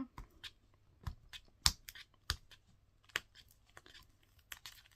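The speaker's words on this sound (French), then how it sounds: "je vais essayer d'enlever comme il faut le scotch" Sharp, scattered crackles and rips of adhesive tape being pulled from an advent calendar package, close and intermittent against a quiet background.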